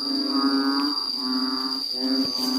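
Narrow-mouthed frogs call from a rice field, a loud sustained chorus of droning, buzzy tones that swell and pause in long phrases, with a steady high insect whine running underneath and no talking.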